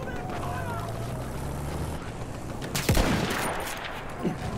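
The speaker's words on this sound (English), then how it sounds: "Can somebody stop shooting at me for 1 second?" Battlefield 1 battle sounds with a steady background din and a sharp nearby gunshot crack midway, followed by a fainter shot, no talking heard.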